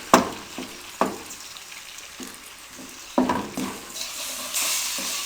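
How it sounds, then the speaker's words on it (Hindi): Two eggs frying in oil over a low flame for Chinese rice, a soft steady sizzle broken by a few sharp spatula scrapes and clinks against the pan, with no one talking. "अब इनको अच्छे तरीके से फ्राई कर लें।"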